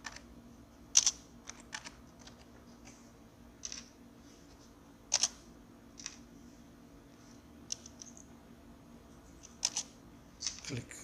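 Typing on a computer keyboard while renaming a scene in SketchUp: sparse, quiet key clicks in short bursts with gaps between them, close and alone.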